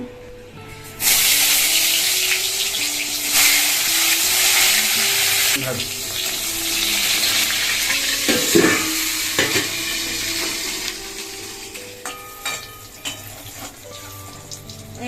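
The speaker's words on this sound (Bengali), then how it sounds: "তেল গরম হয়ে গেছে বেগুনটাই প্রথমে ভেজে নেবো" Loud, steady sizzling of eggplant frying in hot oil starts abruptly and continues, with occasional utensil scrapes and clinks.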